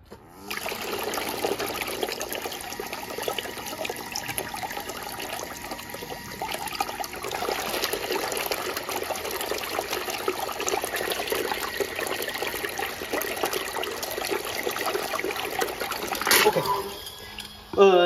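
A SHYSKY DC55E-24160S 24V 80W micro brushless DC water pump runs with water, giving a steady, close, continuous rushing and trickling wash that holds level for most of the stretch before a brief louder surge near the end.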